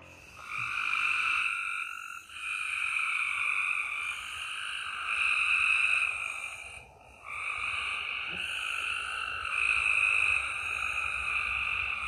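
Frogs croak in long, sustained, buzzing trills, broken by a few brief pauses between bursts. The calls are fairly close and clear over a quiet night background, with no voices.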